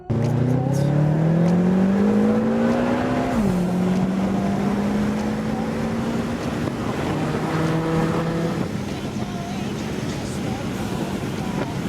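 A BMW F10 M5 driving fast on back roads, loud engine drone climbing in pitch through the gears with a shift near the middle, heavy wind and road roar throughout, heard from inside the car.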